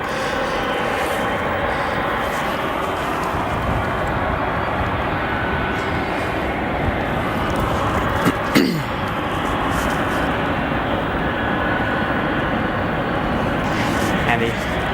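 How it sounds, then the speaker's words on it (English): An Aero Union Airbus A300 departing Chicago O'Hare for Mexico City, a loud continuous jet engine roar with a brief whine sweeping past midway, while people talk over it. "this flight on your screen, Aero Union A300 departing to Mexico City"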